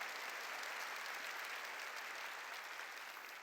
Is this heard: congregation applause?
yes